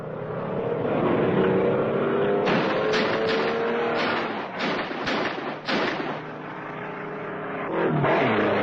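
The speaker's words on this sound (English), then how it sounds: "Black hot rod just jumped the roadblock on Route 20, headed toward Midvale Junction." A black hot rod car jumps a roadblock on a highway, with a loud roaring engine that rises, then a burst of sharp crashes and bangs before the engine note settles and swells again.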